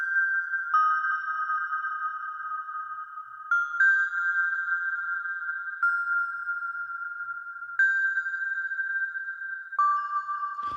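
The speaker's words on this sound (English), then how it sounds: "This is a synth sound from Repro." A piano-like synth patch from Repro plays sustained steady tones with occasional pitch changes and bright upper overtones, heard alone and loud for the whole stretch.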